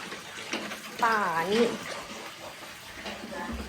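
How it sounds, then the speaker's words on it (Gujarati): Water runs from a household tap into a container with a steady, moderate rush. A short voice rises over it partway through. "મમ્મા ભરે છે પાણી"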